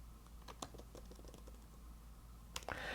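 Fingers type a company name on a computer keyboard in faint, quick, irregular key clicks that end in a brief louder clatter.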